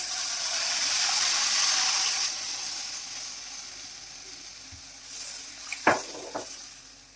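Broth is poured into a hot pan of beef piccata, setting off a loud hissing sizzle that swells and then fades, followed by a few soft clinks of utensil against pan near the end.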